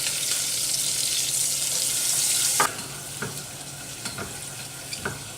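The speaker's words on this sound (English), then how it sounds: "Go ahead, get your butter in there," Butter hits a hot pan on medium-high heat, first with a loud bright sizzle, then fading to a softer crackle with a few sharp spatters and taps.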